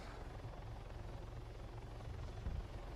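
A helicopter's rotor thumps steadily at a distance, a low continuous chopping drone with no voices, in a video game.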